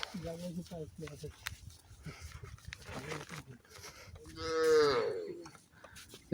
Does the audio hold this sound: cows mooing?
yes